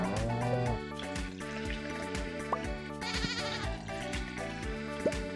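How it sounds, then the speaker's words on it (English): A sheep in the farming game Stardew Valley bleats over the game's steady background music, with a few small watery blips scattered among the notes. "Such a great sheep, Gillard."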